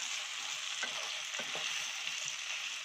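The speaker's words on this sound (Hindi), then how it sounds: "और डालूंगी शिमला मिर्च। अच्छे से मिक्स कर देती हूँ।" Bell pepper fries quietly in a pan for a chilly egg curry, a soft, even sizzle with a few brief scraping sounds as it is stirred.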